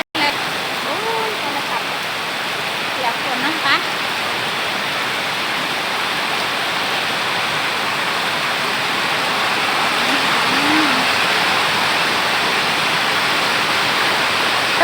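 Heavy rain pours steadily with runoff water rushing along a street, a dense continuous wash that stays loud throughout, with a few faint voices underneath.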